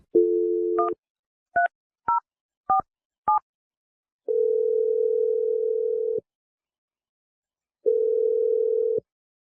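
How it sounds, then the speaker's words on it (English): A telephone dial tone sounds, then several dual-pitched touch-tone beeps as a phone number is keyed in, followed by long steady ringback tones with a silent gap between them, clean and close with no talking. "I'm going to dial his number."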